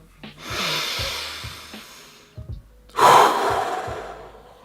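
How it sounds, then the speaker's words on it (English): Slow deep breaths during a guided breathing exercise, a long airy inhale followed after a pause by a louder rushing exhale, close and unaccompanied by talk. "Inhale deeply through your nose and breathe through whatever tensions you notice in your body."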